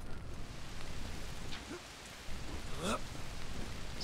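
Steady rain hisses through a firefight-free lull in the zombie survival game Dead Island: Riptide, a dense wash of drops with faint rustles and a brief tonal sweep near the end, no voices.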